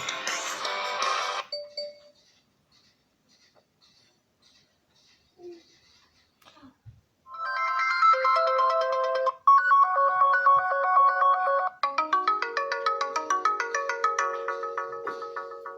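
Melodic ringtone from the small, not very powerful speaker of a Sharp Aquos S3 phone: a short burst first, then after a quiet gap a clear repeating chime pattern of bright tones that keeps looping, close and moderately loud.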